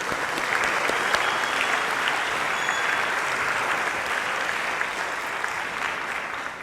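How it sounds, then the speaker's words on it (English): Sustained applause from an audience at a junior high school band concert, a dense, steady wash of many hands clapping that holds at full strength for the whole stretch and barely fades at the end. "So if you give our band boosters a round of applause as well."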